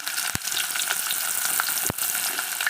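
Onions frying in oil with cinnamon and cloves for prawn sherva make a loud, continuous close sizzle, broken by two brief sharp clicks.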